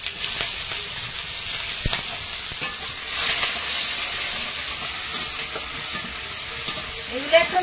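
Onion, garlic and chili sizzle in hot oil in a pan, a steady crackling hiss with occasional stirring scrapes, close and moderately loud.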